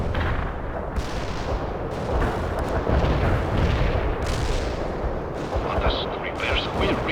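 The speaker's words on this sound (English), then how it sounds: "Strike mission received. Cluster bombs are out." Cluster bombs from an airstrike in the game World in Conflict pound the ground, a dense continuous rumble of blasts and crackling detonations, loud and sustained, with voices faintly under the barrage.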